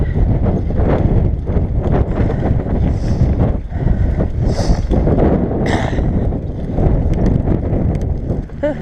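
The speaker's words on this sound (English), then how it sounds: "I'm getting blasted by the wind" Wind buffets a microphone on a cyclist riding a hilly road, a loud rumbling roar with gusty bursts, continuous throughout with bits of tire and bike rattle underneath.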